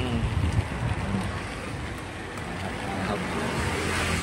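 Rain pours steadily at a roadside durian stall in Thailand, a dense, continuous hiss that swells slightly toward the end, with faint road traffic beneath it.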